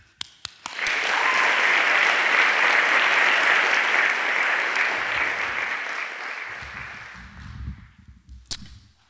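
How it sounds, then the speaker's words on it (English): A college audience at a storytelling event claps for the storytellers after a few scattered early claps, building quickly into sustained, dense applause that tapers over several seconds before a voice begins speaking. "I want to first just applaud all of the storytellers tonight"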